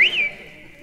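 A man in a comedy routine imitates the recall whistle he gave his hunting falcon: one bright whistled note that rises, then holds steady before fading into quiet.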